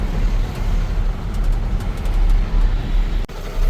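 Dense road traffic on Kalawad Road in Rajkot, with cars and heavier vehicles rumbling past in a constant low engine drone and a few brief horn-like tones, loud and close.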